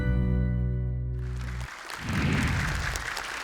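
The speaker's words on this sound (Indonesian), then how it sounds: "Boleh tepuk tangan untuk Gina" Studio audience applause on an Indonesian Quran memorization talent show, breaking out halfway through after a sustained tonal musical sting ends, then continuing as a dense, steady wash of clapping.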